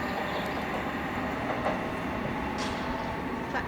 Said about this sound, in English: we got another C2C service for Shoebury-Ness arriving in